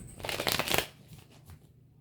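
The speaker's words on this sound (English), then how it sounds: "I just shuffled the cards" A quick riffle of cards being shuffled, a close, crisp fluttering burst that fades into softer handling noises.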